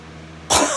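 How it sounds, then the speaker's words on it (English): A single dry cough bursts out after a quiet stretch with low hum, sharp and close, its rough breathy tail trailing off. "I got a dry cough."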